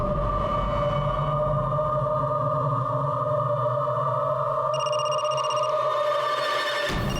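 An electronic phone ringtone plays sustained steady tones, shifting pitch partway through, then cuts off abruptly near the end.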